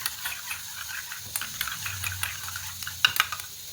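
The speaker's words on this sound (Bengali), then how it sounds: "টক দই 2 চামচ নেব, দিয়ে খুব ভালো করে একটু ফেটিয়ে নেব।" Sour curd is whisked with ground spices in a bowl, giving faint, quick scraping and ticking strokes in an uneven rhythm, with no talking.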